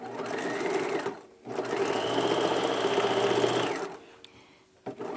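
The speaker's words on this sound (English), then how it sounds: "We're now going to sew the bottom of the casing." A sewing machine runs in two bursts, a short one and then a longer steady whir, top-stitching around the bottom of a drawstring backpack casing, with brief quiet pauses between and a small click at the end.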